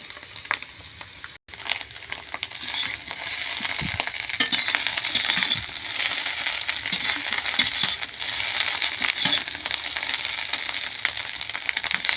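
Egg chow mein seasoned with chilli powder fries in a pan, giving a continuous crackling sizzle with scraping stirs and occasional metallic clinks, fairly close and without talk.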